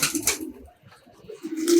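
A pigeon coos at close range, giving a few low, throaty calls separated by short pauses.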